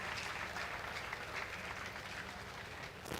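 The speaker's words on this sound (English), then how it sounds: "Please go ahead and clap." Audience applause at an event presenting a solar-powered community in Nigeria, a steady wash of clapping heard faint and somewhat distant throughout.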